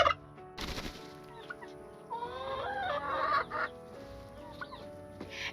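A hen named Ethel clucks and murmurs while dust bathing, soft broken clucks and a faint burbling call, with a few brief scuffing bursts of dust and movement close by.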